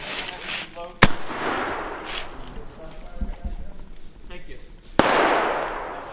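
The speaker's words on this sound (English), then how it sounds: "I'm gonna fire the celebratory cannon to go ahead and get this thing kicked off" A small celebratory cannon is fired outdoors at the start of a weapon-light torture test, giving two sharp, loud bangs several seconds apart over a hissing fuse and background rustle.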